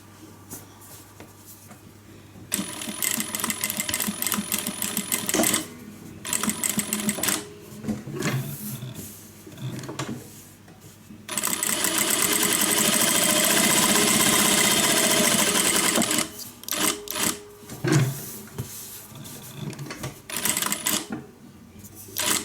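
A sewing machine stitches around a square zipper pocket on a guitar-shaped handbag, running in loud, steady whirring bursts of several seconds, with one long continuous run and short pauses between runs.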